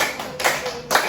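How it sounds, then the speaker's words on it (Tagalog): A classroom group claps in a broad, even wash of applause, with two louder bursts standing out, close and moderately loud. "Maaari niyo bang bigyan ng palakpak ang inyong mga sarili?"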